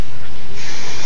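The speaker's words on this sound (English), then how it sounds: "Spray it again" A spray bottle mists water onto long hair during styling, giving one short, loud, steady hiss close to the microphone.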